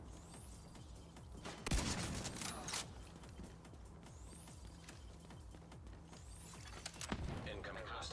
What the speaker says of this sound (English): He's got a shotgun. It's weird to sound like a shotgun.